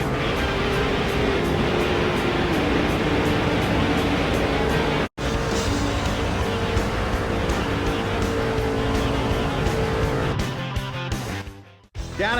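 Stock car engines roar continuously in the NASCAR 06 video game, a loud, sustained racing drone with pack noise throughout, briefly cutting out once midway and thinning near the end.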